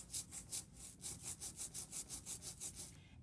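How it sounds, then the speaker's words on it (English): A rubber brayer rolls back and forth through sticky printing ink on a plate, making a quick run of about a dozen tacky, swishing strokes in even rhythm, close up and with no voices. "Move it both ways, gonna kind of make a sticky sound."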